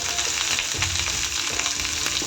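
Garlic sizzles in hot oil in a pan for a bhindi masala curry, a close, continuous crackling fry with occasional stirring scrapes.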